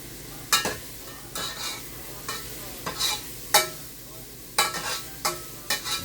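Garlic, onion and ginger sauté in a pan as a spatula scrapes and stirs in distinct strokes roughly every second, each a bright clatter over a low, soft sizzle; no one talks.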